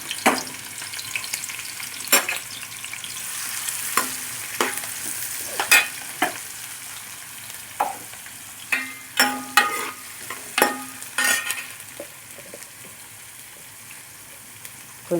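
Chopped onions and green chillies hit well-heated oil and fry with a steady hiss, broken by repeated spatula scrapes and stirs against the pan, close and fairly loud, without voices.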